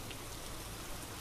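Rain falling steadily on a road, a dense, even hiss of drops with no pauses, close and fairly loud, used as a story sound effect.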